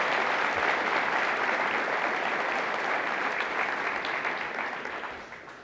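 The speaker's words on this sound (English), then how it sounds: "Big round of applause for these two guys." Audience at a fire academy graduation ceremony claps in a full, continuous round for two firefighter graduates, loud and even before tapering slightly near the end.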